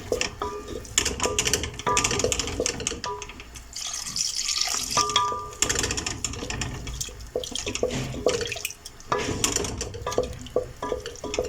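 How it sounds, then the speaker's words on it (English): Utensil stirring milk into a thick white sauce paste in a pan, continuous scraping and wet swishing with occasional clinks against the pot, close and steady throughout. "So keep on stirring to ensure that no lumps are formed."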